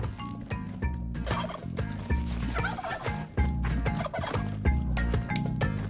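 Turkeys gobble loudly and almost without pause, overlapping rattling calls layered over one another with occasional clucks, close and busy throughout.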